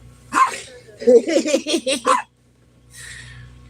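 A pet dog barks in a quick run of about five sharp barks close to the microphone, standing alone against a low background hum with a fainter sound trailing at the end.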